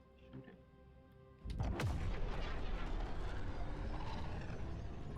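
After a quiet moment, loud sustained gunfire erupts in the video game Jump Space, a dense continuous barrage that stays heavy to the end.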